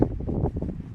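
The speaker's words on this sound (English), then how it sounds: "Oh, man, that wind is just chilly up here, I'll tell you. It is just whipping this mist right through here." Cold wind whipping mist across a mountaintop, heard as brief, close gusty buffeting on the microphone.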